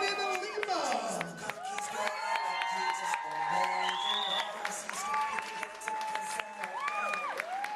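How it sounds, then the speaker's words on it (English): Wedding guests at a country club give a bridesmaid's entrance steady, close applause mixed with cheers and whoops, the clapping rolling on under music and an announcer's voice. "have a nice round of applause for Desiree Barboza, escorted by Jordan Lima"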